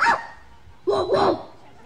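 A person imitates a dog barking, voicing one short yelp and then two quick rising woofs close to the microphone, with pauses between them.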